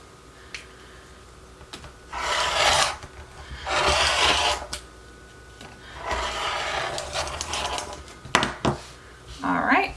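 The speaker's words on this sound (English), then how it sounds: "You can use your rotary cutter." A rotary cutter slices fabric along a quilting ruler in several separate rasping passes, each lasting about a second, with quiet pauses between them, recorded up close.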